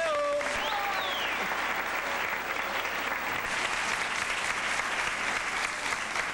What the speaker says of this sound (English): If anybody wants to applaud for this great man,